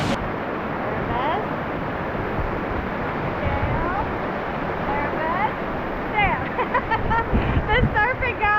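Massive flowing water rushes steadily beneath a large footbridge on a forest trail, a broad continuous roar under someone talking throughout, with birdsong chirping faintly toward the end.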